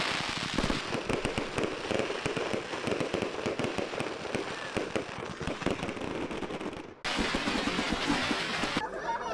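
Fireworks go off at a large charity football match, setting off a dense, continuous run of crackling bangs and pops that stops briefly, then bursts back in just as thickly.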